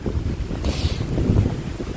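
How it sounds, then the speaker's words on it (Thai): Strong wind buffets the microphone outdoors during mushroom picking in a Finnish forest, a steady loud rumbling roar with a brief gust swelling midway and no speech. "ลมแรงมากเลยทุกคนคงได้ยินเสียงนะ"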